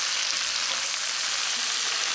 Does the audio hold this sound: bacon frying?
yes